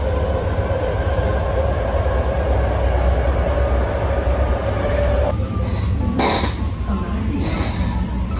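A BART train at a station platform, a steady rumbling drone with a sustained tone that cuts out partway, followed by brief clanks and hiss, with faint voices nearby.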